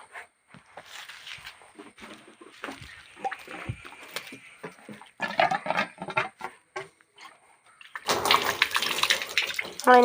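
Water from a hose sprays and splashes against a hollow plastic barrel in uneven bursts, growing into a loud, steady rush near the end.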